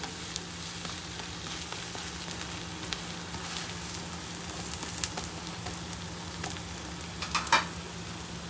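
Vegetable protein dosa made with gram flour frying in oil on a pan, a steady close sizzle with faint crackles and a few scraping touches of a spatula near the end.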